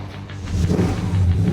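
A custom black car's engine revs as it pulls away, a steady mid-low rumble swelling louder after the first moment, with no talk over it.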